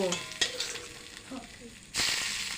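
Hot oil sizzles and crackles in a kadai with cumin and bay leaves, with a sharp burst of loud frying near the end as something is added.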